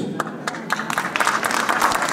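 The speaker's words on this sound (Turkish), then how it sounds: "Size ayakta alkışlıyoruz." Crowd applause at an agricultural and livestock fair in Mezopotamya, a dense, steady patter of many hands clapping across the whole stretch, moderately loud with no one talking over it.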